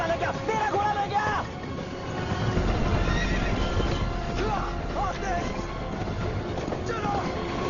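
Horse neighs and hooves clip-clop in the Prince of Persia video game, with a whinny standing out over background commotion and a shouting voice throughout.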